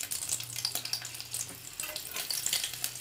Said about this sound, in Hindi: तेल गर्म हो चुका है, अभी हम इसमें मिर्च डाल देंगे